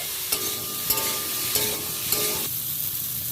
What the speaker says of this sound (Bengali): এবার মশলার মিশ্রণটা আমি দিয়ে দিলাম ভালো করে কষিয়ে নিতে হবে